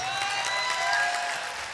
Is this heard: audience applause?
yes